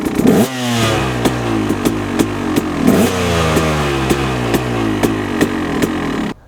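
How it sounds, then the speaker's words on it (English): A KTM or Husqvarna motorcycle engine revs steadily and loudly, with repeated clattering pulses and rising and falling throttle surges throughout, during a clutch free-play check. "take the slack out of the clutch system and rev the motorcycle"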